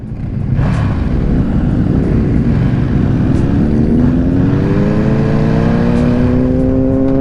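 A loud motorcycle at a bike and car meet roars close by, its engine rising steadily in pitch as it revs and holds a sustained, droning exhaust note.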